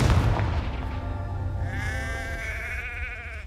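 Fiery Confringo spell blast from Hogwarts Legacy, a rumbling explosive burst followed by a whooshing, crackling tail, loud throughout its few seconds with no talking.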